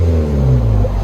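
Steady, loud low exhaust drone from a 2017 Nissan Juke Nismo turbo with high-flow cat and muffler delete, holding a constant idle-like rumble throughout with no talking.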